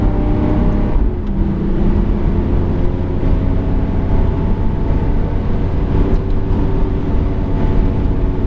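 Steady loud engine drone of a car accelerating on the Bugatti circuit at Le Mans, a continuous rumbling hum with little change in pitch, heard close with no talking.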